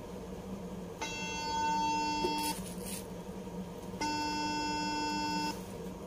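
An outgoing phone call rings, two long electronic ringback tones about three seconds apart over faint room noise.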